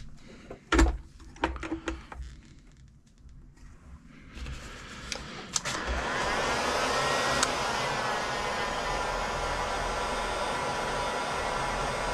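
A heat gun warming plastic during a servo install on an X-Maxx RC truck, a steady loud blowing whoosh that starts after a few knocks and handling clatter and then runs on without a break.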